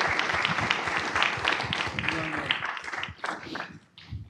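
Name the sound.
audience applause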